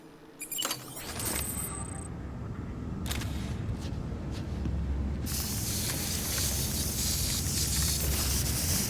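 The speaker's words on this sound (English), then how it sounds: "Now let's get some container respray." A container respray in the video game Death Stranding produces a loud continuous hissing spray that builds and holds steady, preceded by a few metallic clicks and jangles.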